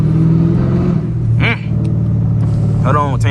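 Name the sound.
tuned 5.7 Hemi engine revving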